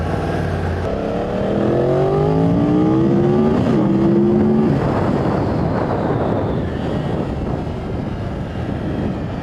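A motorcycle accelerates hard and pulls away, its engine note climbing through rising harmonic sweeps over steady wind rush, then fading into a broad roar with no one speaking.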